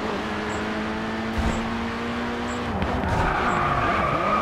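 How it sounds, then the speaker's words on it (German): A VW race car in GRID 2 droans through corners, its engine note steady and loud while tires squeal and skid as it scrapes along, with faint beeps in the background. "Ich ramme ja jede einzelne Kurve."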